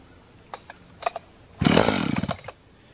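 A few faint cord pulls on an Echo CS-590 Timber Wolf chainsaw, left sitting since the day before and started on choke, are followed by a short loud sputtering roar from the engine that quickly dies away.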